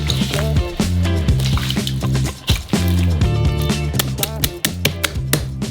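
Hands knead a large batch of bread dough made with flour and oil, giving wet, squishy slaps and sticky squelches in an irregular rhythm, close up and fairly loud, with no talking.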